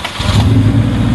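Car engine in a junkyard cranking and catching, settling into a loud, rough running rumble, close up and brief.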